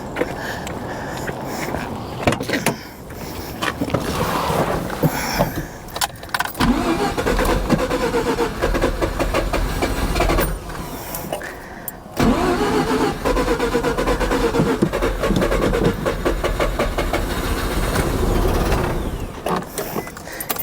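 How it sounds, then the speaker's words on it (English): A Mazda RX7 engine cranks, catches and runs, loud and close, with rough revving bursts and short drops where it stumbles before firing again. "let's see if it'll crank"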